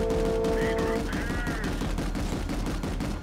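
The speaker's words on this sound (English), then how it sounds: "He's just busy shooting a basilisk right now" A Basilisk machine gun firing in Planetside 2, sustained rapid automatic fire thudding steadily for the whole stretch, with a voice speaking over it.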